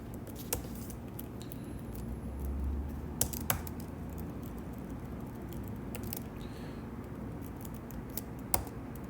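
Sparse keystrokes on a computer keyboard as code is entered, a few isolated clicks spread over a steady low background hum, no voice.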